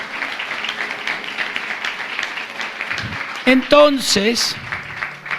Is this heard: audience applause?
yes